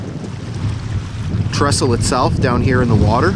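Wind buffets the microphone outdoors by a lake bay near an old railway trestle, a constant rumbling roar under a voice talking.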